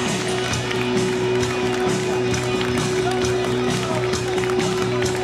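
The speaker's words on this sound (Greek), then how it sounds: "ένα ζεστό χειροκρότημα" Spectators at the Olympus Marathon finish line give a steady patter of clapping and scattered cheers for an arriving runner, with an announcer speaking over the applause.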